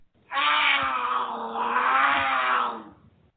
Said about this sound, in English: Do you have cougars on your porch swing?